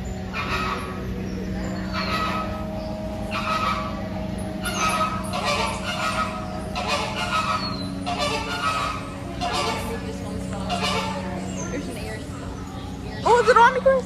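Birds call inside the Key West Butterfly & Nature Conservatory, scattered honking and chirping notes mixed with people talking close by, with a sharper burst of calls near the end.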